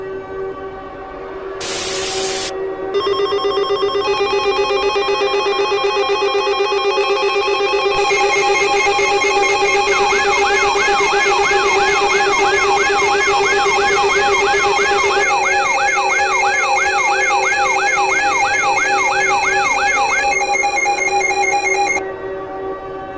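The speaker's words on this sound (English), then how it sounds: "Stand by for an activation of the emergency alert system" Emergency Alert System attention signal plays loud and sustained: a harsh steady dual-tone blare with an oscillating warbling tone partway through, after a brief noise burst, lasting over twenty seconds without speech.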